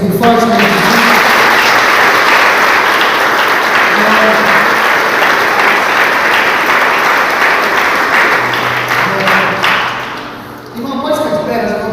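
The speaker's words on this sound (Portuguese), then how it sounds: "Você pode aplaudir o Senhor bem forte, né?" A church congregation applauds loudly during a Sunday family service, a dense sustained wash of clapping that fades near the end as a voice begins speaking.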